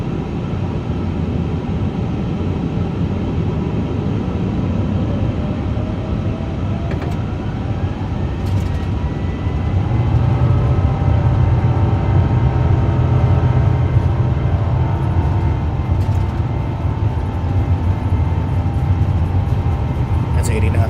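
Airbus A350 taking off in Microsoft Flight Simulator 2024, a steady loud engine roar and rolling rumble that swells partway through the takeoff run.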